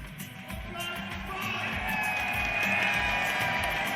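Crowd at the Evo 2018 fighting-game tournament grand finals (Guilty Gear Xrd Rev 2) roaring and cheering for the winner, a steady broad wash of applause and shouts that swells louder through the middle and holds.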